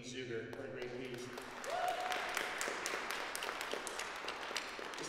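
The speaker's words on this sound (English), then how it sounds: "one more round of applause for Dean Zuger" A concert audience applauds after a performance by a faculty brass ensemble at a university conservatory of music, a steady moderate patter of clapping that rises after a voice speaks at the start.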